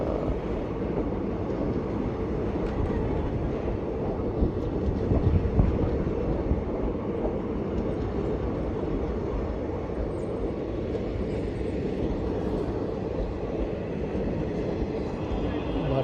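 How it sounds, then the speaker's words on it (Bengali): A train rolls into Rajpura Junction station in Punjab with a heavy, continuous low rumble and rattle of wagons that stays close and loud throughout. "দেখুন একটা ট্রেন ঢুকছে,"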